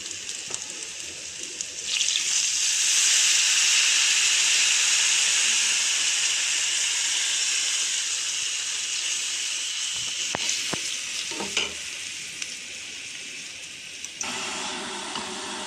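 Curry leaf paste goes into hot oil with turmeric in a pan for a small-fish dish. A loud, steady sizzle swells after about two seconds and holds, then drops away near the end amid a few scraping clicks.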